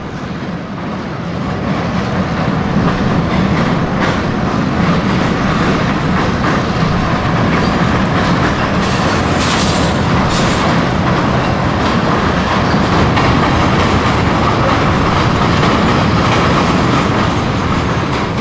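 A freight train of boxcars from the First Coast Railroad, serving the pulp and container board mills on the Yulee to Fernandina line, rolls past close by with a loud, steady rumble and continuous clickety-clack of wheels. No voices are heard.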